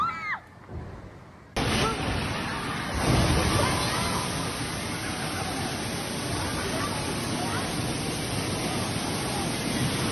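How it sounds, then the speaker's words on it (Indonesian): Rainwater gushes heavily through a collapsed ceiling in Terminal 3 of Soekarno-Hatta airport, a loud constant torrent that bursts in abruptly after a brief quieter stretch with a voice, then roars on steadily with faint crowd noise. "air mengalir deras dari bagian plafon dan akhirnya jebol karena tak kuat menahan debit air"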